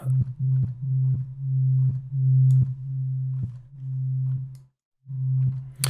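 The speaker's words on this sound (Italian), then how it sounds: "con un sinusoide così semplice non si apprezza molto questo filtro" Plain sine-wave bass from the Serum synthesizer, a pure low tone sounding a series of short repeated notes with soft clicky attacks, one brief gap near the end, loud and alone.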